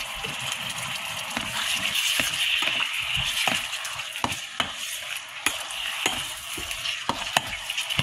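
Chicken stirred in oyster sauce in a multi-function electric cooker, with a steady sizzle and repeated scraping clicks of a utensil over about eight seconds, close and fairly loud, with no speech.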